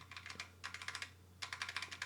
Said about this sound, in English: This feels like a computer keyboard.